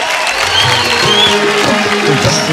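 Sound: audience applause welcoming a contestant on a Bhojpuri singing show

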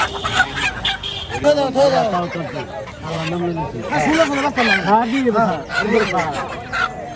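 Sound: chickens at a poultry market

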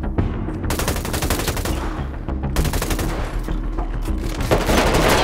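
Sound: gunfire in video game GTA 5 RP

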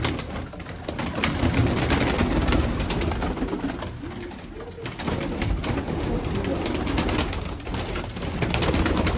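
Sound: Mykolaiv pigeons cooing and flying

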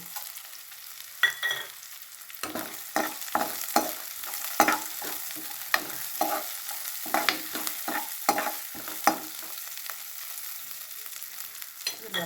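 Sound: onions and moong dal frying in a pan

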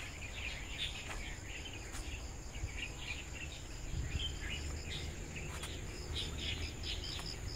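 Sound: frogs and birds calling in a park

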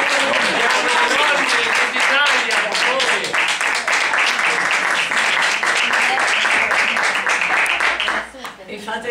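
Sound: audience clapping at a political event

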